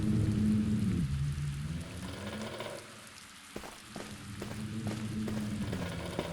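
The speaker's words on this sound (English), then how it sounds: "If it rains like this tomorrow too, we'll have to patch the window up." Rain and wind in the video game The Black Mirror make a soft, steady patter and hiss, with a low hum under it and a few faint taps.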